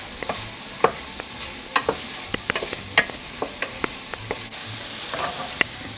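A tablespoon of butter sizzles in a pan for a Cajun shrimp dish, giving a steady hiss under a run of light clicks and scrapes of a utensil against the pan.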